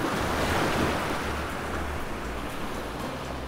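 Ocean waves wash in a steady, broad rush of surf at sea, with wind noise over the microphone and no voices, holding constant and loud for the whole stretch.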